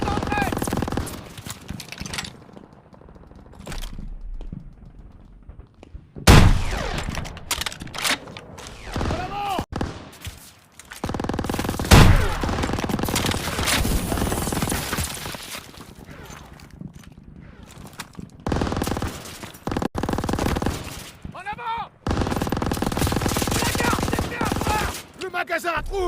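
Machine gun fire in Call of Duty WW2 sounds in sustained crackling bursts and scattered shots, broken by brief lulls and heavy thumps, with game voices calling out over the battle.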